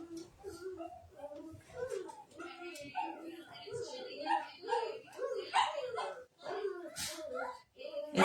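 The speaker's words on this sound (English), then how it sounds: "And of course, my dogs are going to go nuts." Several dogs bark and yip excitedly in quick overlapping bursts, close and loud, with whining between barks and a person talking underneath.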